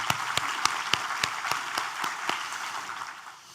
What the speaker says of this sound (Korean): 우리 하나님께 감사의 박수를 드리겠습니다